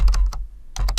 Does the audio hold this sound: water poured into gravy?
no